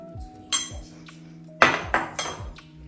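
A spoon clinks against a dish while spice powder is added for Indian amla pickle, producing several sharp, close metallic taps in an irregular rhythm over quiet background.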